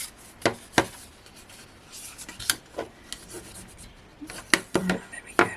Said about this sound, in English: let's bring in my little burnisher. Give these all a good burnish down.